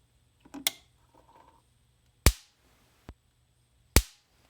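Sharp, loud electric snaps from a Cyclops Master electric fence charger crack out one at a time, three distinct pops spaced about a second apart with quiet hum between.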